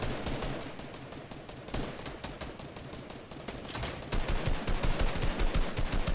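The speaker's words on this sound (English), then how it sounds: "Ciriuhs, couple pot shots, gonna take some shields down." Rapid bursts of gunfire from the video game Fortnite during a trios playoff match, dense and continuous throughout, growing louder and busier toward the end.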